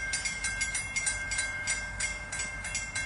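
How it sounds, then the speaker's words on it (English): Pan Am Railways freight train passing the Oakwood Avenue grade crossing, a continuous near rumble with rhythmic wheel clatter and a steady high crossing-bell tone, with no talk. "here comes Pan Am Railways PLED about to pass through Oakwood Avenue"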